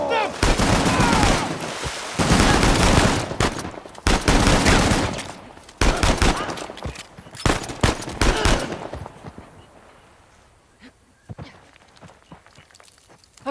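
Dense gunfire erupts during an ambush in the video game Uncharted: The Lost Legacy, loud overlapping rifle bursts and single shots that thin out into scattered, quieter pops.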